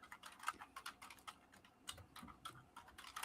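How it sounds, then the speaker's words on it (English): Rapid computer keyboard typing from across a room, a steady patter of small clicks with short pauses, fairly faint and without talk over it. "keyboard going off over there"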